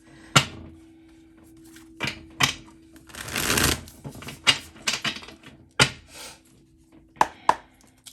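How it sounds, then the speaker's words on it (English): Tarot cards being shuffled by hand, close sharp taps and riffling snaps in irregular bursts with a brief flurry of rapid card flutter in the middle. "I'm going to be shuffling on camera and all of that stuff."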